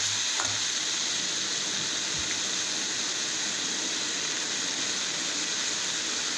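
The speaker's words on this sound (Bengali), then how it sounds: "সেই জন্য চিংড়ি মাছটা দিয়ে খানিকক্ষণ নাড়াচাড়া করে নিলাম।" Raw prawns fry and get stirred in a hot pan, giving a steady, dense sizzle that runs unbroken and close up, with a couple of faint low knocks and no talk.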